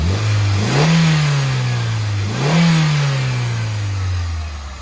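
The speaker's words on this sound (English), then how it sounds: "This engine is a screamer and it runs beautifully" A 1986 Toyota MR2 GT engine with 174,000 miles is blipped twice, each rev rising sharply and then sliding back down toward idle, loud and close, with no voices.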